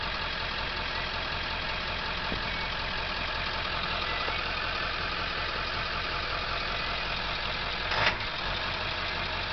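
A 1999 Ford F250 Super Duty Powerstroke turbo diesel 4x4 idles with a steady, rumbling diesel clatter, close and constant throughout, with a brief click near the end.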